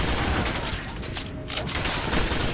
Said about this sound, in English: this assault rifle is still the king